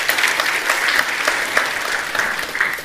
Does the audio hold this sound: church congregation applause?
yes